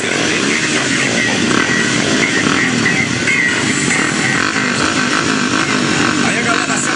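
Motocross motorcycles rev their engines together at a motocross event in Luciara, a loud, continuous buzzing roar of several bikes, with a voice talking over the engines.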